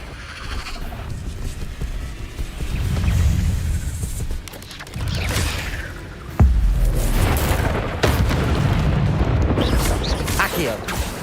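Incendio fire spell bursts in Hogwarts Legacy, loud whooshing flame blasts and impacts repeating amid combat, with a voice calling out spell names over the effects.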